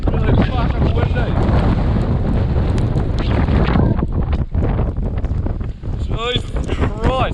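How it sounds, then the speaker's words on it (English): Strong wind buffets the microphone outdoors in New Zealand, a loud, constant roaring rush with gusty fluctuations, and voices break in briefly toward the end. "It's windy. Really fucking windy."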